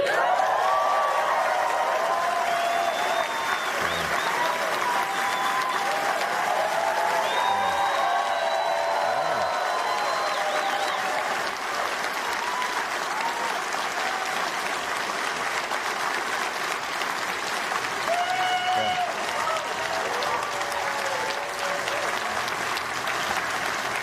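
An audience applauds continuously and evenly for over twenty seconds, a dense steady clapping with occasional faint whistles and whoops rising above it.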